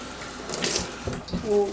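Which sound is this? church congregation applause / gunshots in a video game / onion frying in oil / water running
water running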